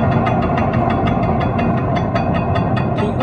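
A Honda Civic EK engine with a MAF sensor fault runs at a steady idle close by, with a loud continuous rumble and a regular mechanical ticking throughout, no voices over it.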